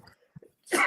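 A single close, loud sneeze bursts out after a few soft mouth noises, sharp and broadband, with a brief quiet lead-in before it.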